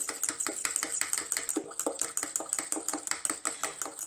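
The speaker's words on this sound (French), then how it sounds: "je vais mélanger comme ça jusqu'à que j'obtienne une crème onctueuse" A water-in-oil cream mixture stirred by hand in a bowl, a quick steady series of light clicking scrapes from the utensil against the container, close and fairly quiet, with no talking.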